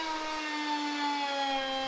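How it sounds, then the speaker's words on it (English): A chainsaw cuts an elm slab down to table size, giving a steady, loud, buzzing engine drone with strong harmonic tones that hold level for the full two seconds, with no voices. "That's why I'm using a chainsaw here."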